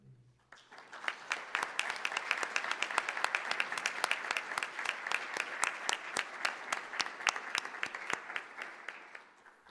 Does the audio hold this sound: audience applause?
yes